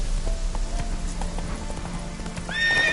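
Roach the horse from the Witcher 3 video game gallops with steady clip-clop hoofbeats throughout, ending in a loud whinny near the close, with faint shouting mixed underneath.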